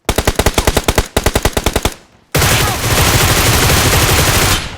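Automatic gunfire in PUBG Mobile rips out in two loud, rapid strings of shots, then stops briefly before a wall of loud, continuous noise.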